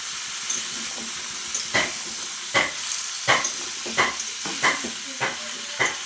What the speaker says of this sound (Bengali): আমি চাল কুমড়োটা দেওয়ার পরে কিছুক্ষণ একটু ভেজে নেব কিছুটা সময় ভেজে নিলাম